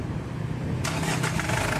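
A Ford Everest engine cranks and catches, a low rumbling idle giving way to a sudden louder burst as it fires up close by.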